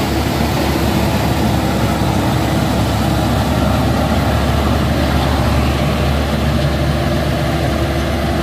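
Heavy truck engines labour on a steep hill road at Bukit Kodok, a loud, dense, unbroken low-pitched drone of idling and straining diesels close by.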